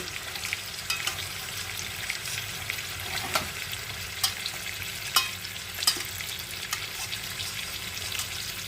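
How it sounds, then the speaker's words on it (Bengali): Continuous crackling sizzle of rohu fish frying in hot oil, close and steady, with a few sharper pops and utensil taps scattered throughout. "দেখো বন্ধুরা মাছ ভাজা চলছে"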